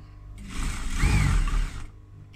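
A sewing machine stitches along the top edge of a calico project bag, its motor running in one steady, close whirring burst of about a second and a half, with quiet before and after.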